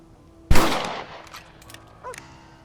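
A rifle fires once in the Red Dead Redemption game on PS3, a loud, sharp blast that rings out and slowly fades, followed by a fainter click.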